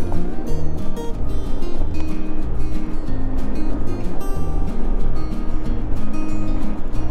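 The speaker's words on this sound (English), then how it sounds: "The wind, man." Wind roars steadily at a lakeside tent campground at Lake Somerville's Rocky Point on a cold day, a loud, continuous rumble buffeting the microphone with no break for the whole stretch.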